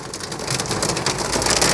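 Heavy rain and large hail pound down in a storm at Fort Ancient, a dense, loud drumming peppered with sharp, crackling impacts that builds slightly over the stretch, with no voices.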